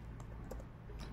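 Sparse keystrokes on a computer keyboard while a command is typed, a few soft, faint clicks spread out, ending in one sharper, louder key press.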